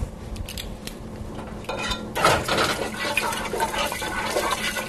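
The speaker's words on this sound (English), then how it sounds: "and continue to stir" A pot of rice with two tablespoons of ginger is stirred over medium heat, with close scraping and clinking of a utensil against the pot and a wet, grainy swish that grows louder partway through.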